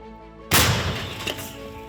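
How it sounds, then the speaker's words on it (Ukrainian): A single loud, sharp artillery shell firing blast erupts after half a second of quiet, followed by a long rumbling decay that fills the rest of the moment. "Один снаряд вогонь. Постріл!"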